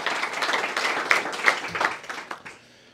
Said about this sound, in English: And then maybe also just a round of applause for our local organizers.